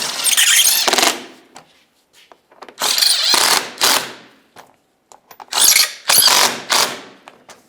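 A ratchet snugging up bumper cover mounting bolts, close and loud, in three separate bursts of rapid clicking separated by short pauses.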